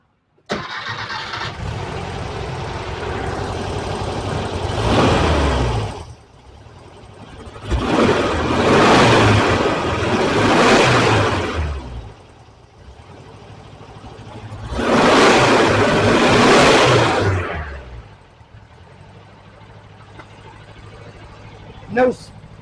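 A 1968 VW Type 3 with a fuel-injected engine runs close by, idling steadily and then revving hard in three long, rising bursts before settling back to a rough idle.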